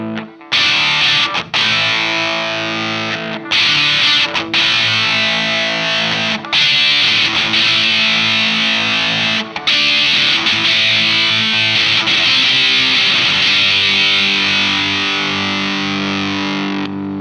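Electric guitar played through a Thorpy FX Electric Lightning Chris Buck signature overdrive pedal, giving thick, saturated driven chords and sustained notes, loud and continuous with brief gaps between phrases.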